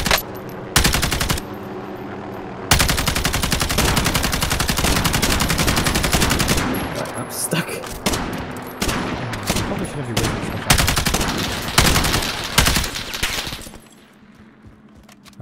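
Call of Duty Warzone gunfire from a bullpup 5.56 rifle: loud rapid automatic bursts and single shots, repeated over several seconds with short pauses, players talking faintly in between.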